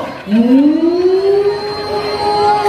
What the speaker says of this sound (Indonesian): Biasanya kalau udah digunting tali itu ada sirine.